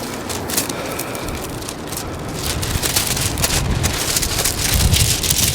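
Gusty wind buffets the microphone with a constant rushing roar that swells louder toward the end, no talking.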